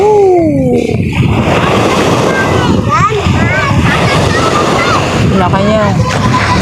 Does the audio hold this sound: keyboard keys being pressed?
no